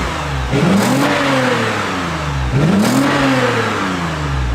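A car engine on a dream car build revs twice in quick succession, each throttle blip swelling into a loud, deep growl and settling back to a rumbling idle, close up with no talking.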